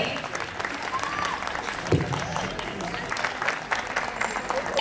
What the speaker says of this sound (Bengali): তালি হবে।